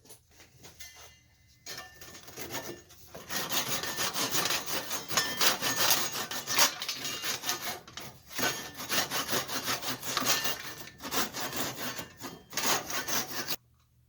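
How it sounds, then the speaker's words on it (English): Hand saw cutting through glued wooden chair parts in a workshop, a steady rhythm of close rasping strokes that grows louder after a quiet start, with brief pauses between runs. "saw these off"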